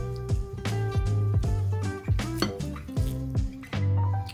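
Cookie dough for strawberry lemon cake mix cookies being mixed with an egg, with repeated clinking, tapping strokes against a bowl in an uneven rhythm, close and fairly loud, no talking.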